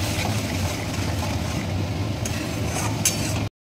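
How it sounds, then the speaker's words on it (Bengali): Ground spices (turmeric, cumin, salt and chili powder) being sautéed in a pan for egg poach curry, a steady dense sizzle with faint scraping of stirring and a couple of light clinks near the end. "এখন আমি মশলাটা ভালো করে কষে নিচ্ছি"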